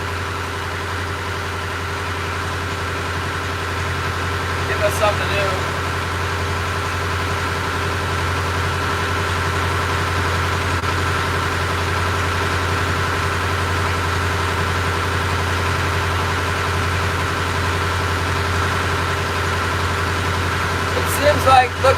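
A loud boat's engine idles in winter Alaska, a steady low droning hum with constant tonal layers running throughout, while a person speaks briefly and a couple of short clicks or knocks break through.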